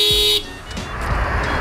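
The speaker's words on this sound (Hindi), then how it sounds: "तू ऐसे ही डिस्टर्ब करता है हमेशा, हॉर्न बजा बजा के" A vehicle horn, beside an Ntorq scooter, blares loudly and steadily for a moment, then cuts off, leaving a rumble of nearby traffic and engine noise.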